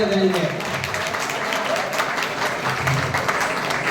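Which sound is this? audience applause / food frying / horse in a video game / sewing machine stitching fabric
audience applause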